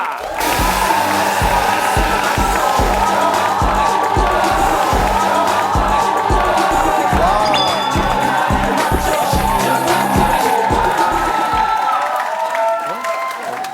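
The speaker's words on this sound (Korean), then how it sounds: "여러분 큰 박수로 참여하겠습니다." A Korean TV studio audience on a competition show applauds and cheers as a special judge is introduced, a dense, loud and continuous burst of clapping and crowd noise with music under it, fading at the very end.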